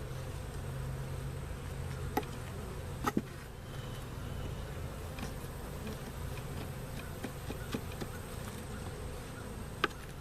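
A steady, dense insect buzz fills the whole stretch, like a swarm of bees close by, with a few faint clicks and ticks scattered through it.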